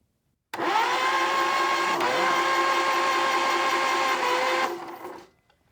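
A Case trencher engine with its spark plugs removed cranks over on the starter for about four seconds, a steady close whirring drone that cuts off abruptly, with no talk.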